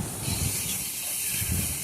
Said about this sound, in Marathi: कांदा खोबरं आणि लसूणला मी चांगलं भाजून घेत आहे